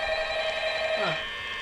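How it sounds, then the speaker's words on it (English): A telephone rings in the horror video game Five Nights at Freddy's, a steady electronic ring that is fairly loud. A brief sliding tone near the end drops in pitch and fades. "The phone will answer itself, I think."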